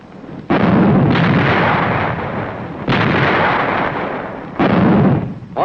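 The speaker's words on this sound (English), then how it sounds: "Artillery joined the concert of mortars" Heavy artillery and mortar fire from archival World War II combat footage of Marines on Okinawa, with three loud, sustained booming blasts that each roar and rumble for over a second.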